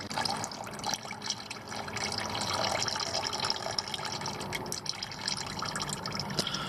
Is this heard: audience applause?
no